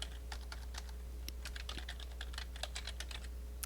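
Rapid, light keystrokes on a computer keyboard, with irregular clicks tapping close by at a steady pace as text is entered into a spreadsheet cell, over a faint low electrical hum.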